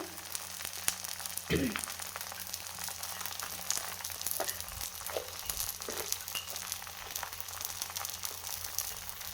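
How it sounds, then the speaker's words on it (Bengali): Pumpkin flower pakoras deep frying in hot oil, giving a steady close sizzling hiss throughout with a few brief crackles and pops. "আরও ভাজতেছি আর কি"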